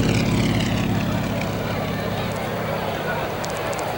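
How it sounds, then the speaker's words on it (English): A replica Kate torpedo bomber built from a BT-13 flies over an airshow, its propeller engine giving a loud, steady drone under talk from an announcer. "Kenny Williamson in a replica of a Kate torpedo bomber of the type that was used in the attack on Pearl Harbor"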